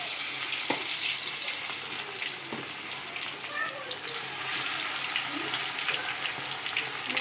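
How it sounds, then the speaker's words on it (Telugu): Fish pieces fry in hot oil, a continuous soft sizzle and bubbling that holds steady, close but moderate in level, with a few faint knocks and no clear talk. "మనం ఇప్పుడు ఒక్కొక్క పీసెస్ని తీసుకొని ఫ్రై చేసుకుందాం"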